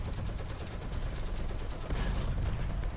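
Anti-aircraft gun firing in War Thunder, a dense, continuous stream of rapid automatic shots close by, loud and steady for the whole stretch with a slight surge partway through, no talk over it.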